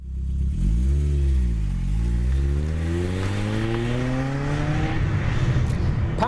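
A 1990 BMW M3's high-revving 2.3-litre four-cylinder petrol engine climbs loudly through the revs, dips briefly as it shifts, then winds steadily higher in a long, close, rising howl.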